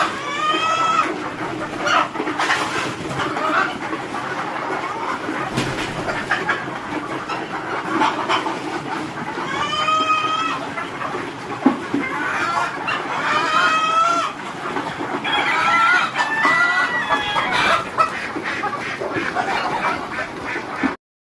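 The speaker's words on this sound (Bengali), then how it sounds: "এটি হচ্ছে আমার মিশরিয়ান ফার্ম মুরগির খামার।" Egyptian farm chickens on a poultry farm cluck and squawk continuously, several birds calling over one another, with occasional louder cackles and a crowing rooster, all close and busy.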